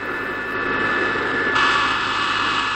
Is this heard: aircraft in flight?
yes